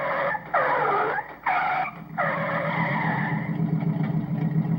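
Toy racing cars in a stop-motion animation rev their engines in loud, overlapping bursts with squealing, tire-like tones that rise and fall over a steady low rumble, close and continuous.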